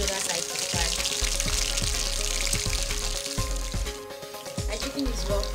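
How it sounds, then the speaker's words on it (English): Chicken pieces frying in a pan of hot oil for Nigerian fried rice, a steady close sizzle with repeated low thumps and clatter as pieces are turned, running throughout. "I'm turning my chicken so this other side can fry as well."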